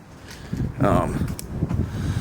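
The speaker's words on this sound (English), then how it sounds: "it's really windy out" Wind buffets the microphone in gusty rumbles while a person talks briefly over the blustery outdoor noise.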